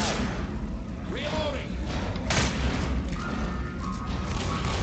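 A pipe bomb goes off in the zombie shooter Left 4 Dead, a muffled boom partway through amid continuous game noise and scattered in-game voices and effects.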